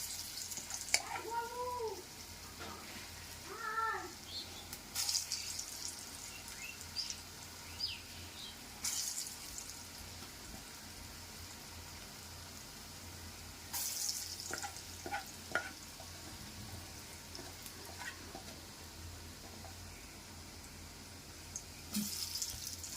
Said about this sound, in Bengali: এই রাউন্ডটাও ভাজা কমপ্লিট।